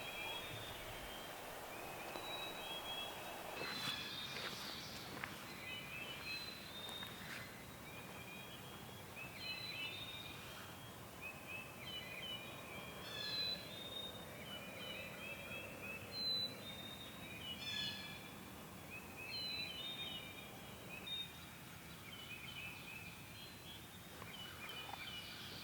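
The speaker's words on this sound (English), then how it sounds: "Birds gobbling there." Wild turkeys gobbling far off on Michigan public land in spring, a few faint distant gobbles scattered across a quiet outdoor background with other birds chirping.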